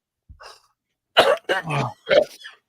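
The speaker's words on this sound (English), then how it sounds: "all of a sudden I'd cough" A few harsh coughs burst out close up after a faint breathy sound, separated by short pauses.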